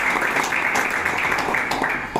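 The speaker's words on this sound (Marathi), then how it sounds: "जोरदार टाळ्या एकदा." Steady, dense clapping from an audience at a de-addiction centre's Independence Day gathering, a continuous even roar of applause lasting a couple of seconds.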